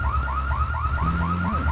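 Repeating rising whoops of a car alarm in GTA III blare steadily over a low vehicle hum, with a brief horn-like tone near the end and nobody talking.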